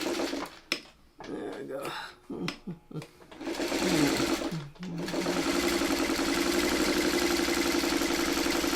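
A sewing machine stitches fabric with a needle, running in short start-stop bursts before settling into a loud, continuous close-up whirr; a person speaks briefly early on.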